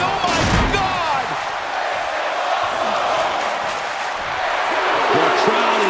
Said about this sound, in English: Chokeslam outside the ring!